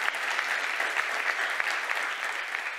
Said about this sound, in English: Ladies and gentlemen, please a big applause for the panel.